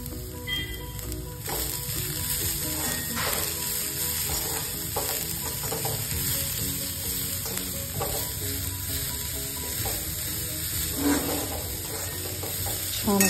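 Cabbage stir-fry mixed in a hot pan, a loud continuous sizzle with repeated scraping and tossing strokes of the spoon throughout, close up and without speech.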